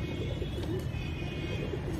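Giribaz pigeon cooing softly and steadily over a constant low background murmur, with no clear talk.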